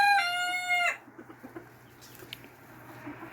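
Backyard chickens cooped up together: a rooster's crow at the start, then soft, scattered clucks and small pecking sounds close by.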